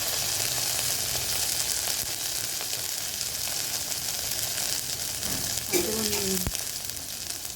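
Chopped tomato fries with ginger, cumin, chilli paste and turmeric in a pan, giving a continuous close sizzle, with a short spoken remark partway through and a light clink of stirring.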